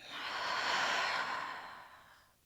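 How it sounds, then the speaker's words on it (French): A single slow exhale through the mouth during a yoga routine, a soft airy breath that swells and fades over about two seconds, close and quiet. "on expire, on relâche par la bouche"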